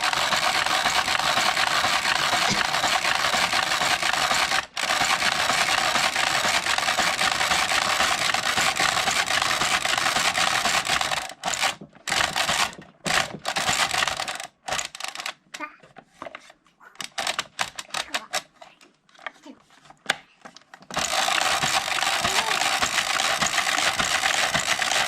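A Passap E6000 knitting machine carriage is pushed across the needle bed, a loud, steady mechanical rattling and whirring that runs for many seconds, then breaks into choppy bursts and pauses before resuming.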